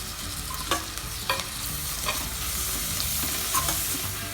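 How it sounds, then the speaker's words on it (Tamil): Ground ginger, garlic and green chili paste sautéing with onions in a pan for peas pulav, a dense close sizzle with a few sharp scrapes of the spoon stirring, no talk. "நான் அரைச்சி வச்சுருக்கிறேன் இஞ்சி பூண்டு பச்சை மிளகாய் சேர்த்துடலாம்."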